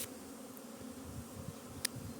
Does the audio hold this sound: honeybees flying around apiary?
yes